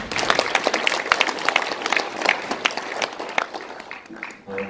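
Seminar audience applauding a speaker being introduced at a commemorative panel discussion, a scattered round of claps that thins out toward the end.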